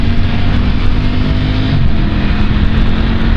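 Ducati Streetfighter V4S or Triumph Speed Triple 1200 RS motorcycle engine revving hard under acceleration, a loud, close, steady roar with a dip in pitch midway as it pulls on, no voices over it.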